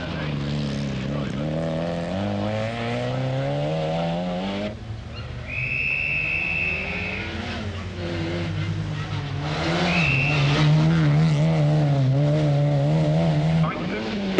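Vauxhall Corsa Nova rally car driving fast on a Cumbria rally stage, engine note rising and falling through gear changes, fairly loud with a passing whine, commentary voice over it.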